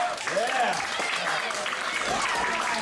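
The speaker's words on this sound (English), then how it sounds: "The fans are clapping in approval." Wrestling fans at a ringside event clap in approval, a steady wash of crowd applause under a commentator's voice.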